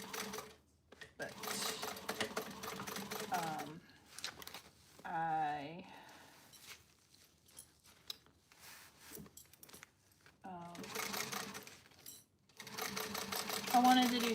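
An industrial sewing machine stitches a tote bag in bursts of rapid, mechanical whirring that start and stop, alternating with stretches of people talking.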